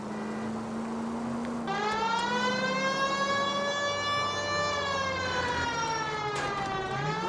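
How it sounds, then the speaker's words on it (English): A police car siren wails in L.A. Noire, a loud steady tone that rises and then holds with slow pitch sweeps over the sound of the car, with no talking. "It might move if you use the siren, Phelps."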